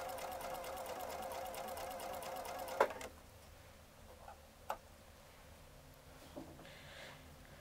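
A sewing machine runs a LeMoyne Star quilt seam with a quick, steady mechanical whir for about three seconds, then stops, leaving faint clicks and small handling knocks in a quiet room.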